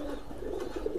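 Pigeons in a farm loft coo quietly in a brief, steady warble, with a low background hum underneath.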